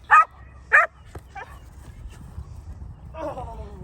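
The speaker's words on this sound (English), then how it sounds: "she does have a pretty decent little bark when she gets into it" A seven-month-old Dutch Shepherd puppy gives two sharp, close barks during bite work, followed by softer yips and a whimpering whine against a low background rumble.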